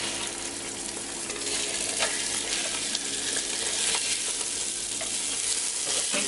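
Herby butcher sausages brown in a hot pan, giving a steady, close sizzle with crackling pops and an occasional scrape of stirring, and no talking over it.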